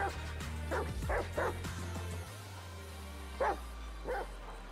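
A dog in the video game GTA 5 barks in short bursts, about five sharp barks spread unevenly over a low engine-like hum, moderately close.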